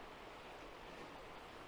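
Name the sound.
creek water flowing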